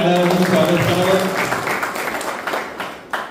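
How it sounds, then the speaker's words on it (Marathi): A crowd applauds to welcome newly elected BJP office-bearers in Ambegaon taluka. A voice speaks over the first second of steady, close clapping, and the clapping then thins and tapers with a few louder claps near the end. "त्यांचंही आपण सर्वांनी टाळ्या वाजवून स्वागत करावं"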